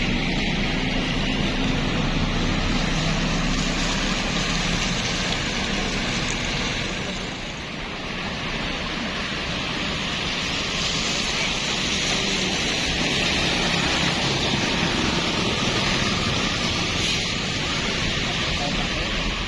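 Rain at a bus terminal in Bekasi, a dense, steady hiss of falling water filling the whole stretch at loud, constant level with no talk over it.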